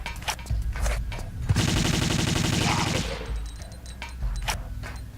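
Rapid automatic Uzi fire in a Tomb Raider game level: scattered single shots, then a sustained burst of about a second and a half, followed by more isolated shots, loud and close with no talking.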